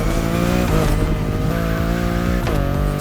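A BMW i8 hybrid sports car driving in The Crew Motorfest, a steady engine hum with tires squealing and shifting pitch, close and loud with no talk.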